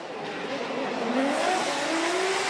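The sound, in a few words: Cusco Racing GR86 and Z4 drift cars on track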